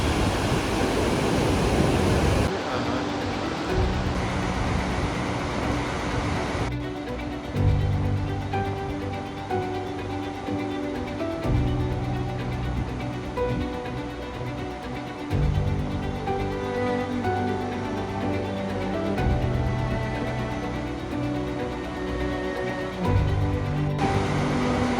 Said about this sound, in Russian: Стены каньона усиливают громовой звук воды